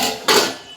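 A lid is set down on a cooking pot of simmering curry, a single short metallic clack close by, fading quickly.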